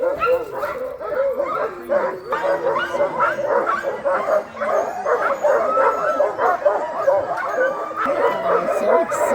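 Huskies at a sled dog kennel in Seward, Alaska bark, yip and whimper in an excited chorus, loud and near, with people talking underneath.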